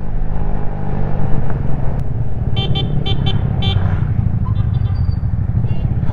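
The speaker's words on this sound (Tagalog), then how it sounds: "Kaya lang ang daming sasakyan." Loud road traffic around a Yamaha XSR155 motorcycle on a ride toward Kaybiang Tunnel, with a constant engine and wind roar and a couple of short horn honks in the middle, near and prominent.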